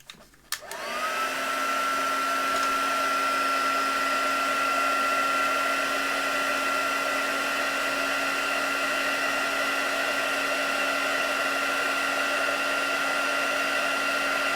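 A hair dryer switches on with a click and spins up to a steady, loud, droning whine as small items are dried, holding an even pitch throughout.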